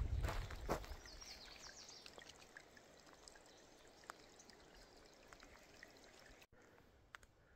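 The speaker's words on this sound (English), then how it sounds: "Water is just flowing everywhere on this trail." Water runs across and along a hiking path on the Continental Divide Trail, a faint, steady wash of flow that continues with no break and no voices.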